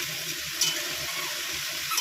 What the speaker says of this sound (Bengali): এখানে হচ্ছে সবজি ভাজা